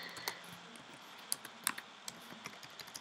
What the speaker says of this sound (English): I'm just typing in a weapon.